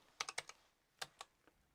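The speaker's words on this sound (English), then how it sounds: "Let me just type it in down here." Quiet keystrokes on a computer keyboard, a short burst of four quick taps, a pause, then three more scattered clicks, soft and close with no talking.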